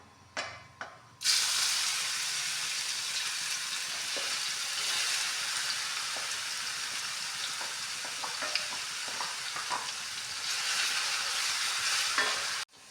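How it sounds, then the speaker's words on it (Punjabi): Garlic is dropped into hot oil, setting off a loud, sudden sizzle that holds steady for over ten seconds, with scattered crackles and stirring clicks close up. "ਆਪਣਾ ਜੀ ਤੇਲ ਦੇਖੋ ਬਿਲਕੁਲ ਗਰਮ ਹੋ ਗਿਆ ਆਪਾਂ ਇਹਦੇ ਵਿੱਚ ਪਾ ਦਿੰਦੇ ਆ ਲਸਣ"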